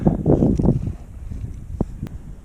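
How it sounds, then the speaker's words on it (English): Strong wind at a winter mountain summit in Atholl buffets the microphone in heavy low gusts, loudest at the start and easing into a steadier rumble with a couple of brief knocks, with no talk. "The wind's really picked up, so you'll hear it when I pan round."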